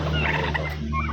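A turkey gobbles close by in a warbling, rapid burst over a steady low hum.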